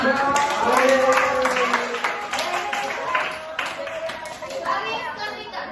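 A school class in an Indonesian language lesson clapping hands in a patterned rhythm, a string of sharp claps mixed with children's voices and chatter.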